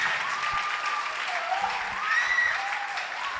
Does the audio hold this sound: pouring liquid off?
no